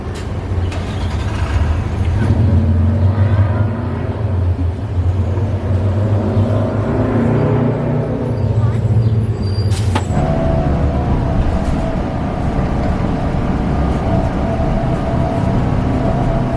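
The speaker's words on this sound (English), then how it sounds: "And to cap it off, we get to ride a C40 LF today." Ride aboard a New Flyer C40 LF city bus: a loud, continuous engine rumble and road drone from inside the cabin, with a sharp hiss of air brakes partway through followed by a shift to a rougher idle.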